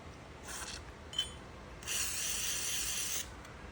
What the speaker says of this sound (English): we're gonna spray a little here inside of the barrel itself.